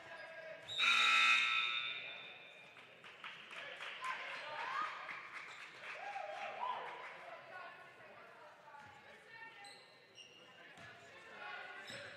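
A buzzer sounds loudly at the end of a high school girls' basketball district tournament game, ringing over a noisy gym crowd as the final shot goes up.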